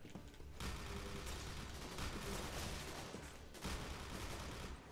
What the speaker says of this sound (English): The main gun's pretty good.